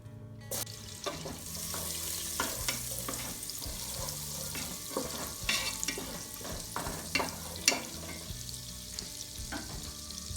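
Butter melts and sizzles in a cooking pot at the start of a Bangladeshi polao: a low, steady frying hiss runs throughout, broken by frequent close clinks and scrapes of a spoon against the pot.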